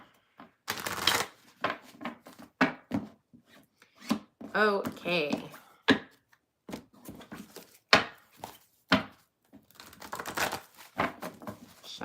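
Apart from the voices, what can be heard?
shuffling tarot cards, a ripped card catching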